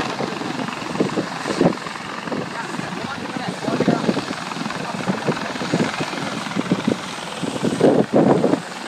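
A helicopter flies and settles in to land, its rotor thumping steadily and loudly throughout with wind rumble, while people talk over it.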